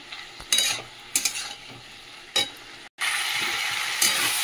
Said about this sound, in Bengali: চলো মশলাটা কষে নিই আগে।